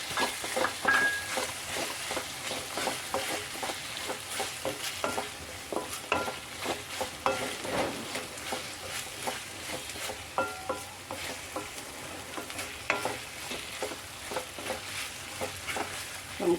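Tomatoes tossed into a pan of frying onion, ginger and chicken curry base, with steady sizzling and repeated scraping stirs of a spoon against the pan, close and continuous, with no voices.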